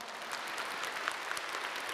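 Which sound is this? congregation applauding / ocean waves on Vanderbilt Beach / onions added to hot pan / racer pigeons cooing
congregation applauding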